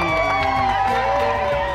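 Elite runners and a crowd cheer and shout encouragement for kids at a youth race, loud and close, with voices overlapping throughout.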